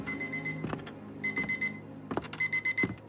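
Alarm clock sounding in a house as a boy sleeps through it, a repeating electronic beep in short pulsed groups, moderately quiet, broken by a few thumps and rustles.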